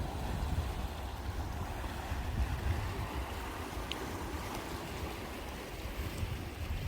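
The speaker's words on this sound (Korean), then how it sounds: "바다는 잔잔한 편인데 가끔씩 가다가 조금 음, 높은 파도가 밀려오기도 합니다" Sea waves wash against a rocky shore at a fishing spot with a mostly calm sea, a steady broad rush of surf mixed with wind buffeting the microphone, continuous and fairly loud with no voices.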